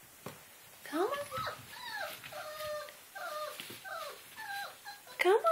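A puppy whimpers and whines in a series of high, wavering cries, close by, with a few soft yips.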